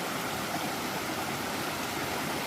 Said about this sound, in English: Ooh, look at this creek!